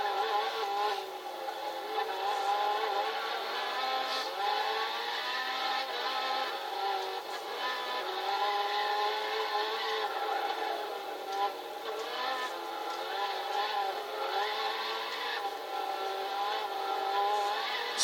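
Race cars in Gran Turismo 6 at the 24 Hours of Le Mans, an Audi R8 among them, a continuous high engine drone with shifting pitch that holds loud and steady throughout.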